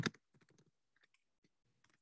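Sparse keyboard typing, a loud first click followed by scattered quieter key taps in short bursts.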